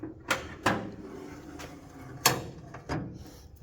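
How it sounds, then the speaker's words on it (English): Bonnet of a Morris 1100 car being opened, a series of several sharp metallic clunks and latch clicks spaced irregularly, close by and fairly loud. "I'll get the bonnet open here."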